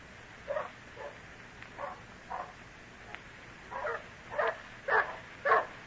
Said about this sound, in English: Stop that barking.